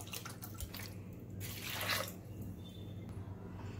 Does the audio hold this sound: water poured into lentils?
yes